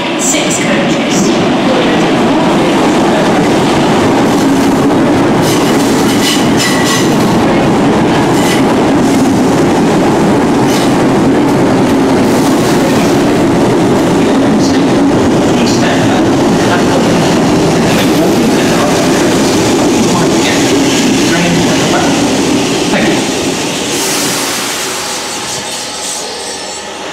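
A London Underground Northern line train runs loudly on the rails up close, a steady roar of wheels with faint squeal and clatter that eases slightly toward the end.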